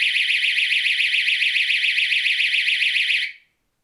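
A DSC wireless security system alarm sounds alone, loud and close, as a steady rapidly warbling electronic tone that holds for about three seconds and then cuts off into silence.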